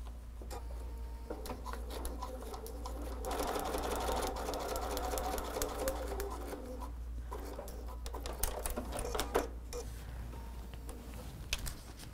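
A sewing machine runs steadily through fabric for foundation paper piecing, a continuous rapid stitching patter over a low motor hum, close and moderately quiet.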